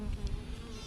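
Honeybees hum in a steady, faint drone during a hive inspection, a continuous buzzing texture alone with no talk.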